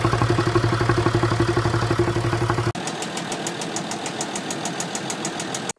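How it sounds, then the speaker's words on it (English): A Range Rover Sport 3-liter engine idles with a rapid, even knocking and tapping that repeats steadily; partway through the sound cuts to a thinner, brighter ticking rhythm, close and loud with no talking. "this kind of a knocking, tapping sound from the engine can be the early symptom of this issue"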